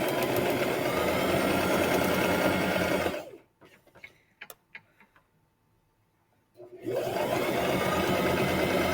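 A sewing machine stitches triangles together with a couple of back stitches, a loud close mechanical whir running steadily, stopping for a few seconds with small clicks and taps, then starting again; no talking.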